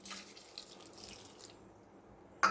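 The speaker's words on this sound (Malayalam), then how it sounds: "ഇനി ഇതിൽ ചേർക്കുന്നത് ചെറിയ ഗ്ലാസ്സിന് ഒരര ഗ്ലാസ് വെള്ളം" Half a small glass of water poured into a pressure cooker holding sprouted green gram and banana flower, a brief faint trickling splash lasting about a second and a half, close by with no talk.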